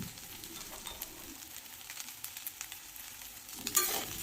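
Ginger, cumin powder, turmeric and salt fry in a pan while being stirred, producing a soft sizzle with scattered scraping clicks, a little louder near the end, and faint bird calls in the background.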